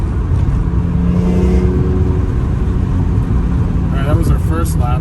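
A car lapping the Streets of Willow road course at speed, its engine a steady loud drone and road rumble throughout, with rising whine toward the end; a person talks over it.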